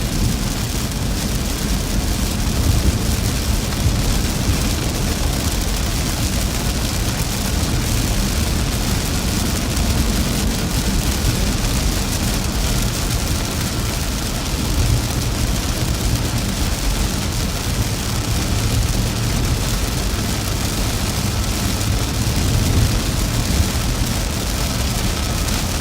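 Heavy rain pounds steadily on a vehicle during a severe-weather storm chase in the Midwest, a dense, loud, unbroken roar with low rumbling underneath for the whole stretch.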